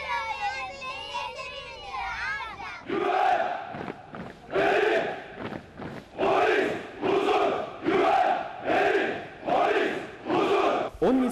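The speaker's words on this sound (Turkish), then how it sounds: "Daha sonra POMEM öğrencileri sloganlar eşliğinde kortej yürüyüşü yaptı." Turkish police school (POMEM) students chant slogans in unison while marching in a Police Week parade in Ereğli, loud rhythmic shouted bursts repeating about once a second after a brief different sound at the start.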